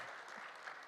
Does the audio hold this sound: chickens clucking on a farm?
no